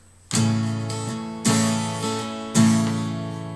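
An acoustic guitar is strummed in a few strong chords of a song, each ringing out and decaying, close and clear with no voices.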